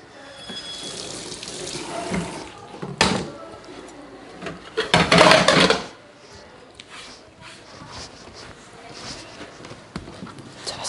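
Dishes are rinsed under a running kitchen tap while pufferfish dishes are being prepared. Intermittent gushes of water come with clinks and clatter, including one loud, splashy burst midway, and a person talks throughout.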